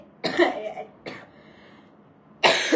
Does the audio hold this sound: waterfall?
no